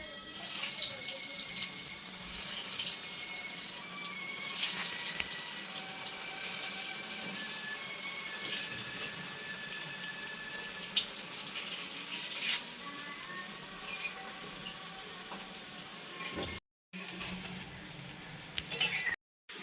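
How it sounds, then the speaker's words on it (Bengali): Bombay duck (lote fish) chops deep-fry in hot oil, making a steady, hissing sizzle that continues for a long stretch, with faint background sounds and a brief cut near the end. "তেলটা গরম হয়ে গেছে এই যে এবার একটা একটা করে চপ তেলের মধ্যে দিয়ে দেবো"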